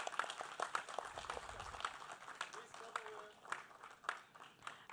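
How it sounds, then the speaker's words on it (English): Audience applause at an award announcement during a youth entrepreneurship event at IISc Bengaluru, with scattered, uneven claps from a modest crowd, some sharp and close, and faint voices murmuring underneath. "Huge rounds of applause, please."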